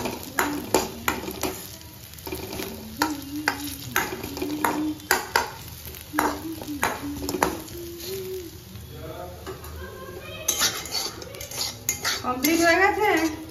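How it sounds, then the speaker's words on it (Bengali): Potatoes fry in a pan at home and are stirred with a metal spatula, sending repeated sharp clinks and scrapes over a low sizzle. Some faint vocal sounds come through near the end. "এই যে দেখো আলু ভাজা আমার প্রায় হয়ে আসছে, আর এই যে ডালে পেঁয়াজ সম্বরার ডাল হয়ে যাচ্ছে আমার"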